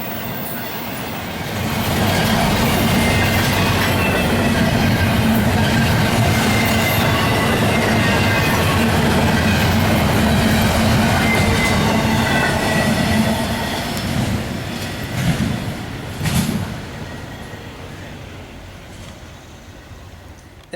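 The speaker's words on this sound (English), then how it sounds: "that CSX train was the last train of the day" A CSX freight train passes in Berea, Ohio with a loud, sustained roar of rolling cars and wheels and some squealing. The noise holds steady for most of the clip, then trails off with a few last clanks as the train clears.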